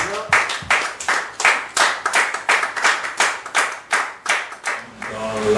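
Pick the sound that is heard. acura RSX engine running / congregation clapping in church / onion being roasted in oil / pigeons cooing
congregation clapping in church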